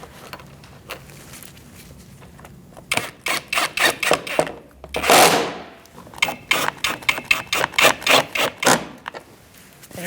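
Side bolts of a 2008-2014 Mercedes-Benz C300 front bumper cover being fastened: a close series of sharp, rapid clicking and ratchet-like bursts, broken once by a brief rushing whoosh, with no talking.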